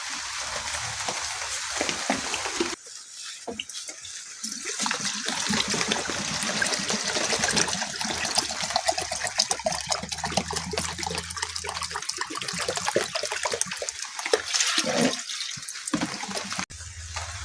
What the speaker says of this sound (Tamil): இப்போ ஈயங்கரைசல் விட போகிறோம் பார்ப்போம்.